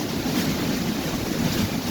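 Sea waves wash in a continuous loud roar of surf, mixed with gusty wind buffeting the microphone.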